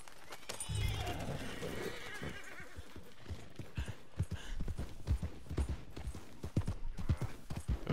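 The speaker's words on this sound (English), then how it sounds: "Oh, there's my horse." Horse hooves clip-clopping in the Red Dead Redemption 2 video game, with a steady run of close hoofbeats and a whinny near the start.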